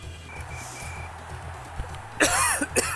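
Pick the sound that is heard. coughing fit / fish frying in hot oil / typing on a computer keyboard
coughing fit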